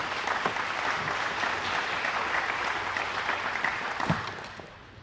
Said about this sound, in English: give yourself a round of applause real quick